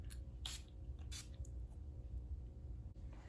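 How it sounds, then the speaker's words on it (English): Dewy finish makeup setting spray misted onto the face in two short, close, hissing bursts, followed by faint handling sounds and quiet room tone. "I'm gonna spray again with this dewy finish"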